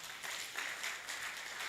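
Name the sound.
audience applauding a presenter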